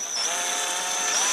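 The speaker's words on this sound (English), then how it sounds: "Now I'll run my drill" A power drill being test-run during a strut spring replacement on a 2003 Pontiac Vibe, Matrix or Corolla whines steadily and evenly for the whole stretch, loud and close with no talking.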